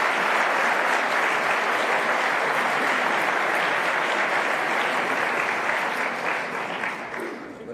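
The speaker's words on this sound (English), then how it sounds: "please give a round of applause to Allison and Lee, who are here from Dublin for today's event" Sustained audience applause fills an auditorium during an event with Noam Chomsky, a dense steady wash of many clapping hands that holds loud for most of its length, then thins and fades toward the end.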